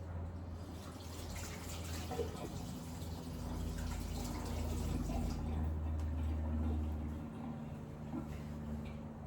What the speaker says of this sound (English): go wash my hands